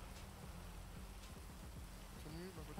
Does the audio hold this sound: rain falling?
yes